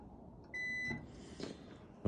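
A multimeter in continuity mode gives a single short, clear electronic beep, about half a second long, while its probes touch the terminals of a microwave oven magnetron. Quiet room noise comes before and after the beep.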